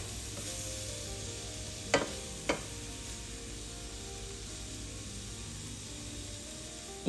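Vegetables stirred in cooking broth in a pot, a steady soft hiss with two sharp utensil clinks against the pot early on, then quieter simmering.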